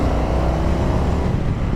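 A 2023 Indian FTR 1200 motorcycle accelerating under way, its engine a steady, loud, close drone blended with wind rush, with no talking.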